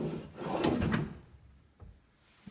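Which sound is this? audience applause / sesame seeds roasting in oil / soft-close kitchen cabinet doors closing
soft-close kitchen cabinet doors closing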